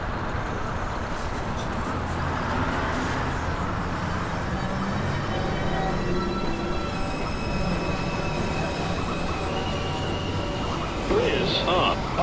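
A Manhattan-bound New York subway 2 train runs at 207 Street Station, a loud continuous rumble of wheels on rails with metallic squeals and rattling, while automated announcements and voices sound over it.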